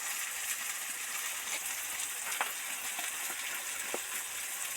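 Food fries in a kadai as part of a Bengali Pohela Boishakh cooking spread, giving a steady, fairly quiet hiss of sizzling oil with a few small clinks.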